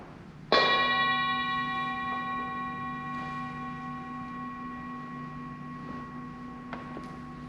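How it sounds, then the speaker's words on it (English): A meditation bell is struck once, a clear metallic strike that rings on with a long, steady, slowly fading sustain in a quiet room, and a faint tap comes near the end. "Once again, I'll use the bell."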